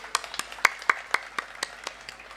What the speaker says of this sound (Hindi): आप सबके लिए एक बार ताली हो जाए।